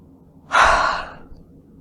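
A woman yawns once, close and fairly loud: a breathy rising exhale that swells quickly, then fades away over about a second.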